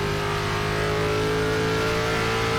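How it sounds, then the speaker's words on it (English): Race car engine in an ARCA K5 championship sim race at Phoenix, a gruntier mid-pitched drone held steadily and loud throughout with no talk over it. "Also sounds like they changed the engine since we were last out."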